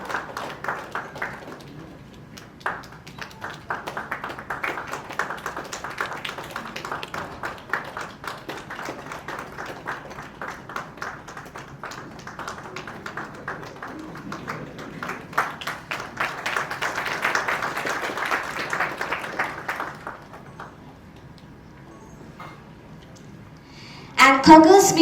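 Audience applause at a film press meet, a long run of scattered hand claps that builds, swells near the end, then fades out before a short burst of other sound.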